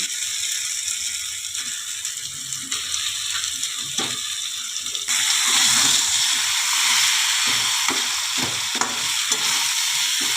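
Fish heads fry in oil with ginger and garlic paste, giving a steady loud sizzle that grows louder and brighter midway. Scraping and clacking from a spatula stirring the pan recur throughout, with no talking.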